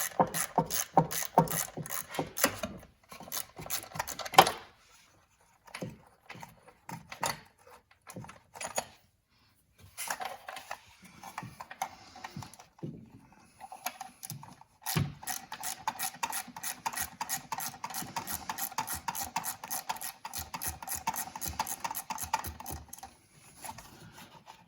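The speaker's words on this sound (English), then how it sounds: "I'm using a 1/4-inch drive just to get in there. I'm going to take these two out." Quarter-inch drive ratchet clicking in quick bursts while removing EGR valve bolts on a Dodge Grand Caravan, close and crisp, with brief pauses and faint metallic handling between strokes.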